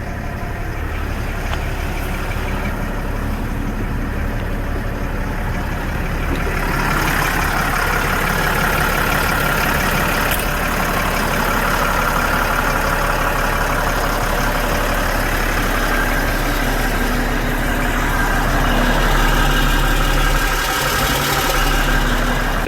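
An M1078 LMTV military truck with its diesel engine idling after air pressure has built up, a steady low rumble with an even throb that runs close and unbroken throughout, with no talk.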